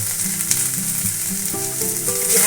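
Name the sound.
drumstick leaves frying in oil for paratha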